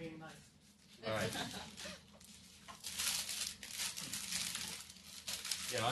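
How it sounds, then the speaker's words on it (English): Paper crinkles and crumples as it is unwrapped, in irregular rustling bursts under ongoing talk in a room. "unwrap your paper now"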